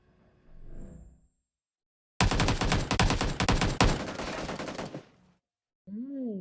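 Gunfire in PUBG New State erupts as a dense automatic burst of about three seconds, loud and close, with faint game sounds before and after.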